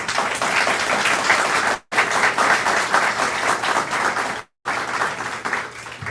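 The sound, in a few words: audience applause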